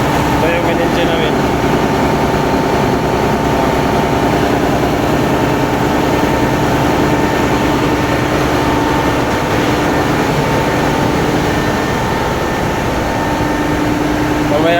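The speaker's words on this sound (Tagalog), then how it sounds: "Ito yung engine room namin guys." A ship's engine room with the engine running, a loud, steady, droning hum and mechanical rattle filling the space without a break.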